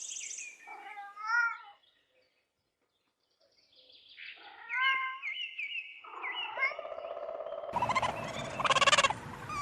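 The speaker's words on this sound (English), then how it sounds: "cat" Cat meowing in a few wavering, drawn-out cries separated by a short silence, followed by louder overlapping calls and a burst of noisy clatter near the end.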